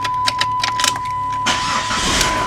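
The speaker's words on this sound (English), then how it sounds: "you turn the car on" A Chrysler PT Cruiser engine cranks and catches, a sudden broadband roar that steadies into a running idle after a quieter stretch of faint clicks, heard close and alone.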